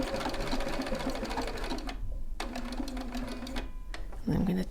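A sewing machine runs in steady bursts while stitching a circular pattern in fabric, pausing briefly to pivot the work and then starting again, close and fairly loud.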